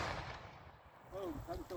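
A ceremonial rifle salute volley, with a sharp blast of massed rifle fire at the start, followed by a voice calling out over the fading report.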